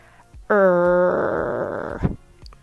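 A single human voice produces a sustained, low, throaty growl imitating a heavy American R, starting abruptly, held for about a second and a half, then cut off, close and loud.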